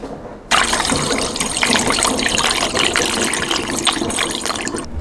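Homemade makgeolli rice wine poured steadily into a fermenting container, a continuous close liquid splash and gurgle running alone for about four and a half seconds after a brief quiet start.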